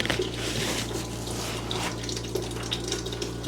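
Sewer water splashes and pours in a continuous, rushing gush, close and moderately loud, with a steady low hum underneath and no talk.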